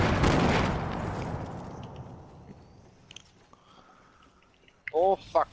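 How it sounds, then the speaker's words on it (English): Fortnite gunfire in a squad match, a loud burst at the start that fades into scattered faint distant shots, then a short sharp cluster of noise near the end. "So much shooting!"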